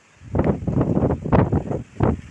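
Wind buffets a phone microphone in close, rumbling bursts, a brief run of muffled thumps and rushes.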